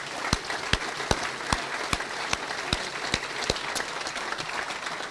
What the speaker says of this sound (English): So just a big round of applause to everybody that's contributed.